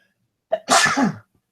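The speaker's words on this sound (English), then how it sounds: "I'm gonna sneeze." A single person sneezes, a short intake breath followed by one loud explosive burst close to the listener, then quiet.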